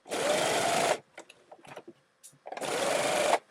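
Sewing machine stitching a 1940s-style pajama lounge blouse, in two loud, steady bursts of rapid stitching separated by a quieter stretch of fabric handling and faint clicks.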